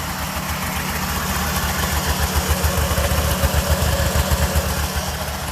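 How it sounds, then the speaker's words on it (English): A two-stroke engine runs steadily at fast throttle with a little choke, a loud, close, continuous buzz with rapid low pulsing that swells slightly toward the end, no voices. "we got a fast throttle going on here with a little bit of choke, just a tiny bit of choke"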